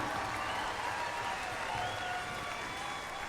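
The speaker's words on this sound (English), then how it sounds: "let's give her a big round of applause" Crowd applause for a runner-up at the Miss Indian World pageant during the Gathering of Nations, a steady wash of clapping from a large audience, with cheers and whoops mixed in.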